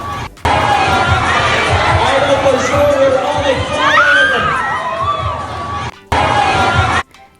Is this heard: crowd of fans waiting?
yes